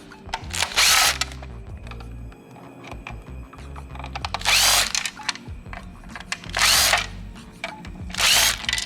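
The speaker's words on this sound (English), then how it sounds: "What you're gonna do is take off these 4 screws." A power drill backing four screws out of a car part on a Dodge Demon, giving four loud whining bursts spaced a couple of seconds apart, with clanking and handling noises between them.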